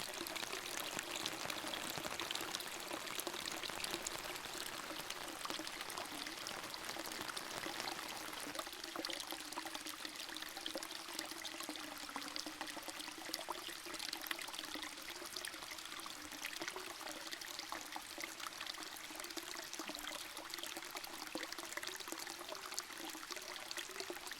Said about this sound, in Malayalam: പാറകളിൽ നിന്ന് ചോർന്നു വീഴുന്ന വെള്ളത്തുള്ളികളും